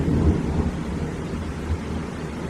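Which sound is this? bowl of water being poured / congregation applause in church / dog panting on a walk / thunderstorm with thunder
thunderstorm with thunder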